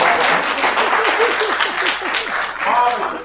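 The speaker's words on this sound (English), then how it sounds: "Let's applaud Mom," Applause from attendees at a council meeting honoring a single mother, a steady wash of clapping with a voice speaking over it throughout.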